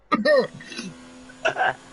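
A couple of harsh coughing bursts close by, the first longer and the second shorter after a brief pause, with no talking.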